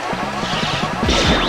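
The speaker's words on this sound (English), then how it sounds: "Oh, so that's the sound glass makes." Glass shatters in a Mega Man video game, a short crash with a bright ringing tail that arrives over a rapid run of repeated electronic blips from the game.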